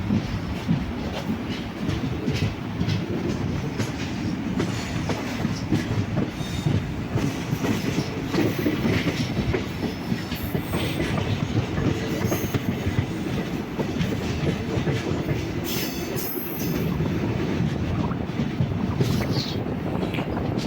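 A passenger train running between Thiruvananthapuram and Kollam, heard from inside as a steady loud rumble of wheels on rails with rhythmic clickety-clack and some wind buffeting the microphone, continuous and without speech.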